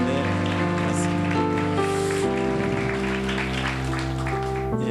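A church congregation claps together in a sustained round of applause during a service, dense and steady with an organ or keyboard chord held underneath.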